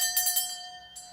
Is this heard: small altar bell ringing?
yes